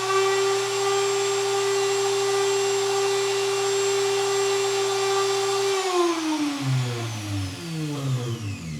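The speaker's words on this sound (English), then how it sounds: "Just for comparison, this is the router at full speed. Here's 2400 RPM with a router." A CNC router hums steadily at full speed with a strong whine, then spins down, its pitch sliding lower until it fades to a rumble and stops.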